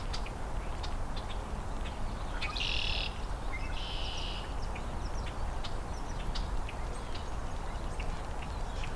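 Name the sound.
common grackle song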